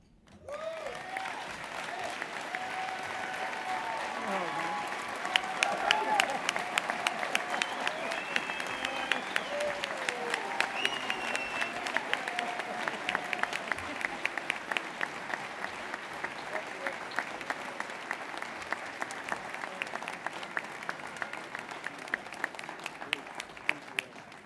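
A banquet crowd applauds at length, steady clapping filling the room for over twenty seconds, with sharper individual claps and scattered voices mixed into the wash.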